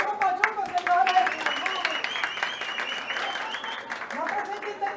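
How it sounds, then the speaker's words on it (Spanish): A comedy show audience claps in a dense burst that thins out over a few seconds while a performer keeps talking loudly over it. "Aplausos, Pachuco, señores"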